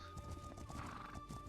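Video game horse, an Akhal-Teke, trotting with rhythmic clip-clop hooves and a whinny, soft and fairly distant, with no talking over it.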